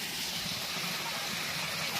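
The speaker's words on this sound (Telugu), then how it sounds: "ఎంత బాగుందో చూడండి వాటర్ ఫాల్" Waterfall at the Dara Gangamma shrine near Punyagiri, reduced to a thin summer flow from above, gives a steady, close, broadband rushing hiss that runs unbroken throughout, with no voices over it.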